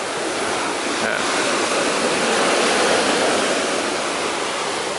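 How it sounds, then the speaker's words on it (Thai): Strong ocean waves breaking on the beach at Mui Ne during a rising tide, a steady loud wash of surf that fills the whole stretch with no voices over it. "คลื่นแรงสมควรครับดูคลื่น"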